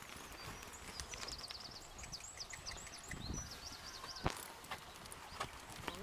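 Horse hooves clip-clop at a steady walking rhythm during a dressage lesson at an equestrian club arena, moderately near, with birds chirping steadily in the background and no speech over it.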